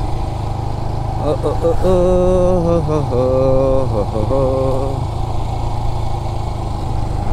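A 400cc motorcycle engine drones steadily while riding on a mountain road toward Gangtok, a continuous loud hum underneath someone talking close to the mic.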